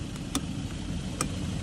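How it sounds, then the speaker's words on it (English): Failing car winch on a vehicle stuck in snow in Chile, giving two faint, sharp clicks about a second apart over a low outdoor rumble. "Just hear a clicking sound."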